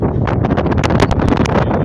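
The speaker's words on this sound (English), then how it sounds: "you see the wind is really picking up." Strong Hurricane Ian winds roar and buffet the microphone in a loud, continuous rushing blast, with gusty surges and rustling layered throughout.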